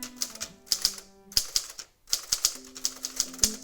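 An Adler J3 typewriter being typed on, close and crisp, with rapid irregular key strikes in bursts, a few clacking pauses, and small ringing mechanical tones under the keystrokes.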